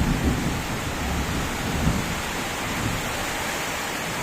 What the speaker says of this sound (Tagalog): Kumukulog, kumikislap!